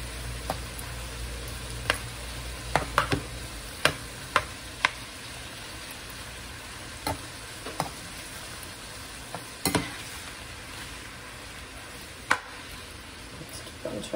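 Garlic shrimps sizzling in a pan, a steady quiet frying hiss broken by scattered sharp clicks and scrapes as they are turned over, with no talking.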